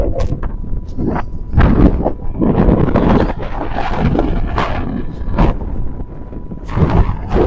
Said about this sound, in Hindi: इतनी तेज हवा है ना